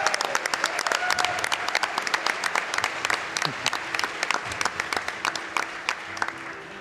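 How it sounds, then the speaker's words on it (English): Steady applause from an audience, many hands clapping at once with sharp claps standing out, continuing throughout. "I think we just give a round of applause again"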